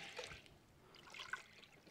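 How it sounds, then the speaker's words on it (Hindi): Water poured from a cup into a pot of masoor lentils while making dal, a faint, short trickling splash heard close by with no voices. "तीन प्याले पानी के डाल दिए"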